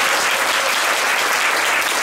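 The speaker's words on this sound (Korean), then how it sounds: "고생하신 정태인 우리 박사님께 다시 한번 감사의 박수." Dense audience applause at a lecture on the political economy of equality, thanking Dr. Jeong Tae-in: steady, even clapping from a full room, close and loud throughout with no break.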